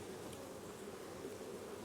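Honey bees buzzing around an open hive on a farm in August, a dense steady drone of many wings, close and continuous with no voices.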